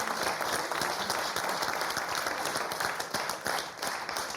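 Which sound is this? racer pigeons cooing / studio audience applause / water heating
studio audience applause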